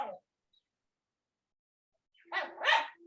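Dogs bark at a home, a neighbor's dog and the household dog: a brief bark at the start, then after a silence two rough barks close together.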